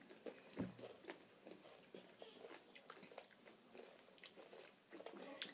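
Crunchy little candy balls like hundreds and thousands being chewed close to the microphone, a quiet run of irregular crisp crunches and bites.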